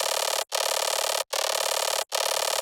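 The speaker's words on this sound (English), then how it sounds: "We have melodic Bruxacry in the B section that sounds like this." Sustained melodic Bruxacry-style synth patch built in Vital for brostep, a dense buzzing tone held in three long notes with brief gaps between them, loud and alone.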